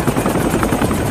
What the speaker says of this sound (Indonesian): Namun mereka tidak mendengarkannya karena berisiknya baling-baling helikopter.